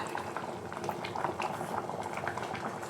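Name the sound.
toor dal sambar boiling in a pot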